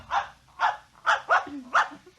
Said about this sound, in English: I'm going to introduce you to my puppy dog, Mr. Blister, so be good.